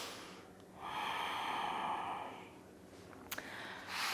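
Deep breathing during a yoga hip-opening pose to prepare for labor: one long, close, soft breath rises and fades, followed by a short nasal puff, all quiet with no talking.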